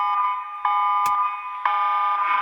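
Emergency alert system alarm much like a tsunami siren: a steady, loud, piercing multi-tone electronic drone that grows stronger in steps, with a sharp click partway through and no talking.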